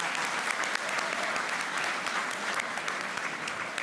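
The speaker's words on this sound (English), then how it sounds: "Can we please have a round of applause for Maggie and Annie O'Farrell?" Continuous audience applause fills the room at the Eclipse Awards, a horse racing awards ceremony: dense, even clapping from a large crowd, heard alone without talk throughout.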